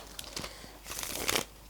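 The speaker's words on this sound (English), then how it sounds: "Just another little shuffle." Tarot cards are given a quick little shuffle at close range, faint crisp riffling and sliding bursts over under two seconds, alone without talk.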